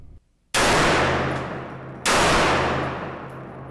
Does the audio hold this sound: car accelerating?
no